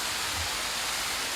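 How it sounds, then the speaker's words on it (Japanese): A waterfall roars as a dense, steady broadband rush, loud and unbroken throughout with no voices. "滝に来ております。"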